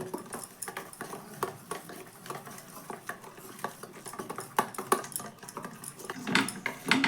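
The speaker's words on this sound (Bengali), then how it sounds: "একটা হ্যান্ডউইচ নিয়েছি খুব ভালো করে এখন মিশিয়ে নিচ্ছি" A hand whisk beats batter for a soft, tender Bengali pitha in a bowl, giving rapid, irregular clicking and scraping strokes close up, some sharper taps standing out, with no talking.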